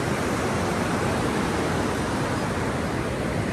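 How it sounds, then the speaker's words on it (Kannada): Sea waves at Palolem beach in Goa make a dense, continuous broadband wash of surf, loud and unbroken, with no voices over it. "ಇದು ಪೊಲೋಲೆಂ ಬೀಚ್"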